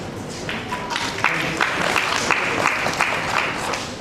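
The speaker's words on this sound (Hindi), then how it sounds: "Huge round of applause, please." An audience gives a round of applause at an evening event, continuous steady clapping at a moderate, even level with some crowd murmur underneath.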